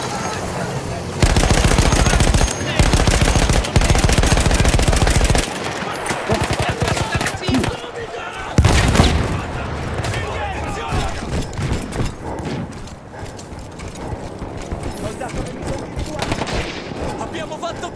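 A mounted machine gun fires in the First World War video game Battlefield 1, loud rapid bursts rattling for several seconds before giving way to scattered distant gunfire and battle noise.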